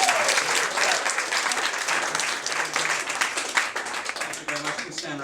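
Applause from a magic show audience greeting a volunteer coming up, loud and dense clapping with crowd noise and the performer's voice calling out over it.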